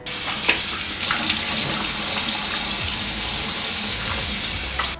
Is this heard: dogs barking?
no